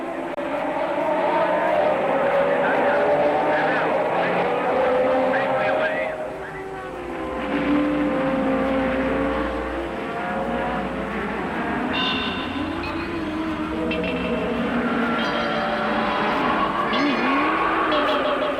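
1973 Formula 1 race cars at the start of a race make a loud, shifting engine roar with whining pitch changes as the pack passes, heard under continuous commentary.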